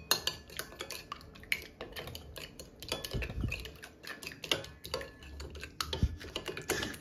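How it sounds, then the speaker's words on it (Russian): Three salted, peppered egg yolks being whisked for carbonara, a utensil clicking rapidly and unevenly against the bowl in close, busy bursts with no talk. "отделили мы 3 желтка, желтки солим, перчим и хорошо взбиваем"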